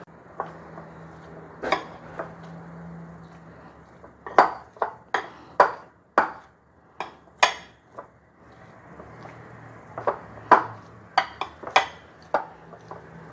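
Sugar, breadcrumbs and flour being ground fine give off a sparse run of sharp clinks and knocks against a bowl. The hits come in irregular clusters with quiet gaps between them.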